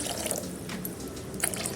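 Water poured from a vessel into cooked curry masala in a pan for an Odisha-style fish curry makes a close, steady splashing gurgle that runs without a break for under two seconds.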